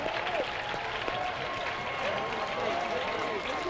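Baseball crowd at a college regional game rising to its feet with sustained applause and cheering, a dense steady roar of clapping throughout with a whistle or two over it.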